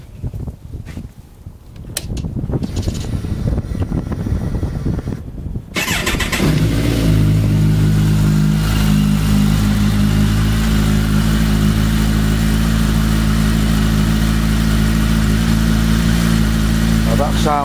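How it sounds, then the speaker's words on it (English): A Kawasaki ZZR1400 motorcycle fitted with Fuel exhaust cans, baffles installed, starts after some quiet handling noise, then settles into a loud, steady idle with deep rumbling and blips of revving, very close, with no talk. "So now I'll start the bike up and let you have a listen."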